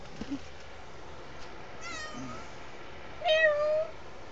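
A cat meows twice at close range in a quiet room, first a short call and then a longer, louder meow.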